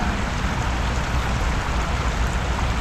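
Light rain drizzles outdoors near the water as fishermen work with a new net, a steady, dense wash of hiss and patter that stays even throughout, with no voices.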